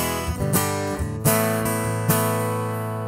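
Cole Clark acoustic guitar heard through its bridge piezo pickup alone, a few strummed chords ringing out with sharp attacks and long sustain, close and moderately loud with no voices.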